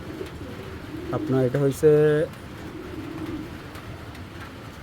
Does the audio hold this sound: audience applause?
no